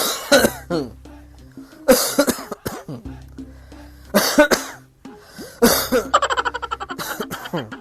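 Repeated harsh coughing fits of whooping cough come in several separate bursts, with a long rapid run of hacking coughs near the end, close and loud against a low background hum.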